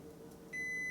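A kitchen timer starts a single steady, high electronic beep halfway through, sustained and clear over a quiet room hum.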